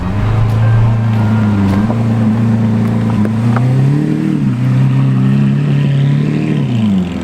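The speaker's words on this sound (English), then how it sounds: "Very loud. Audi R8." An Audi R8 engine heard up close at a weekend car meet: a loud, steady, deep drone that swells in pitch a couple of times as it is revved, with no talking.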